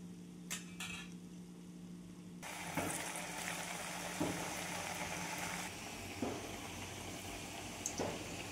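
Oil sizzles and crackles steadily in a hot kadhai as oil drips from rice flour chips, with occasional clinks of a metal utensil against the rim.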